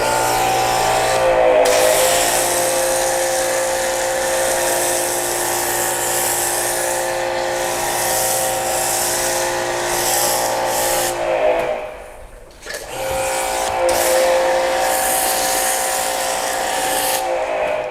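Car shampoo mixed with warm water sprays from a pressure-washer foam cannon onto a car indoors, a loud continuous hiss with a steady motor hum that briefly cuts out partway through before resuming.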